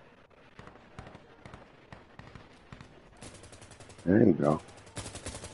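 Gunshots ring out amid background noise, building to a loud, close burst of rapid fire near the end, while a person talks briefly.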